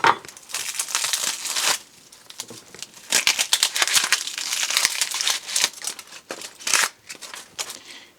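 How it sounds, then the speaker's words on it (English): A knife cuts half an onion on a board in a home kitchen, giving close, irregular crisp slicing and crackling in short clustered bursts with brief pauses, no voices. "we're going to go ahead and cut up half an onion to fry with that"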